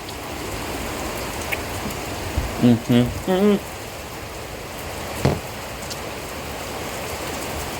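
Steady rain falls, a dense, even hiss throughout, with a few brief voice sounds partway through.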